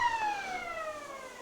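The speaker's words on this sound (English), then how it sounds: "There goes the siren." A siren wails on a steady, slowly falling tone to start a quarter of a country football league match, Wallan versus Woodend Hesket, with distant ground noise beneath and no commentary over it.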